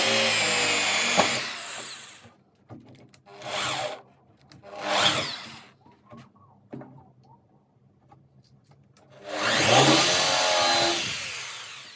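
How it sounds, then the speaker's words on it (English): A power drill bores countersunk holes into a workshop wall in several bursts, each a loud, close, whining grind through wood, with quiet pauses and small handling noises between holes. "So that's exactly as you've just seen me drill it."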